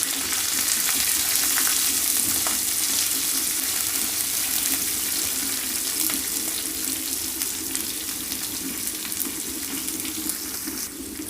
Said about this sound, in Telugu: ఇప్పుడు వచ్చేసి ఉల్లిపాయ ముక్కలు మొత్తం వేసేసుకుంటున్నాను